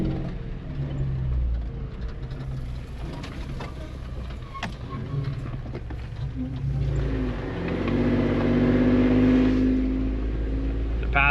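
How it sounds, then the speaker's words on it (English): Cars on a narrow hillside road cut into the mountainside, engines rumbling and revving close by, the sound building louder toward the end as oncoming traffic passes. "Traffic coming the other way."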